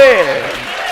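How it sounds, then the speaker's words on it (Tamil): Audience applause during a Tamil sermon, a short burst of hand clapping that starts loud and thins out within a second, with a voice overlapping at the start. "கைத்தட்டு"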